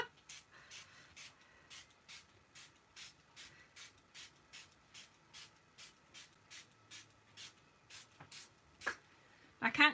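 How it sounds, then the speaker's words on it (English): Hand spritzer bottle spraying water onto paper flowers made from scrap designer paper, a steady series of about twenty short hissing pumps at a regular rhythm, close and clear, with a louder clatter at the end. "Where's the spritzer? Some of them are. Oops. Don't spray the wrong direction."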